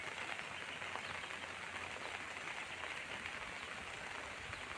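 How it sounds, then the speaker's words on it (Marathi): Steady monsoon rain falls in a village in the Konkan hills as a dense, even hiss with no talking, constant from start to finish. "मस्तपैकी आता पाऊस पडतो इकडे"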